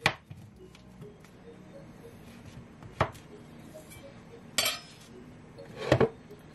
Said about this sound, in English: I'm gonna cut and I'll add to the blender.